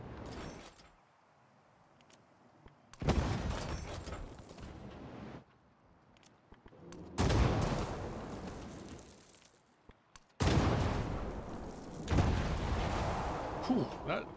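Artillery fire in the strategy game Civilization 7, three loud, broad booming bursts several seconds apart, each decaying into a rumbling tail, with quieter stretches between.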